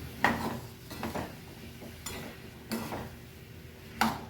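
Chopped bottle gourd being mixed in a pot, with several separate clanks and scrapes of a utensil against the pot at irregular intervals, close and fairly quiet.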